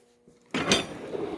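A metal drawer on a Matco tool chest slides open with a sudden clattering rattle of tools and junk inside, close and fairly loud after a moment of quiet.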